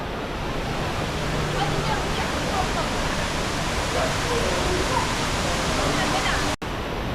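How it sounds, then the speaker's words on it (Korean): Loud, steady roar of the Rain Vortex, the tallest indoor artificial waterfall, at Jewel Changi in Singapore, broadband rushing water filling the space without letup. "이레인보텍스는 인공 폭포 중 가장 높은 폭포라고 합니다."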